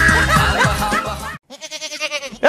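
At a rural livestock market, a goat gives a loud, quavering, pulsing bleat after a short pause, following a stretch of voices and laughter.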